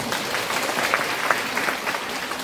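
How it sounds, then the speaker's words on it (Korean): Sustained applause comes from an audience at an outdoor talk concert in a park amphitheater, with steady dense clapping and no speech over it. "박수 한번."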